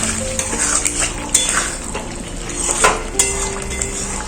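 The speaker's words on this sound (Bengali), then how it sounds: "এই মশলার সাথে ডিমকে একটু কষিয়ে নেব" Duck eggs are stir-fried with spices in a pan, a steady soft sizzle running under repeated scraping and clinking of a metal spatula against the pan, with no talking.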